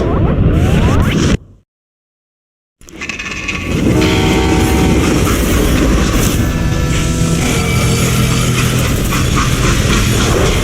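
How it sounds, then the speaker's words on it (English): Freight train in the Call of Juarez: Gunslinger video game, a loud continuous rumble and clatter of rolling cars with whooshing rushes, cut by a brief silence before the rolling roar resumes steadily. "They hopped a freight train"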